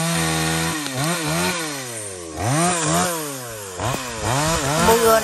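A chainsaw cuts through branches of a large mangrove-type riverside tree, its engine close and loud, pitch repeatedly dipping and rising as the chain bogs into wood and revs free again.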